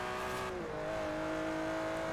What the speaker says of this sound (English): I do like the sound of this car, though.